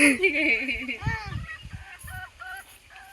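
Chickens clucking at a village home with a wood-fired stove, a run of short, close, rhythmic calls mixed with what may be a voice imitating the clucks, with some talking.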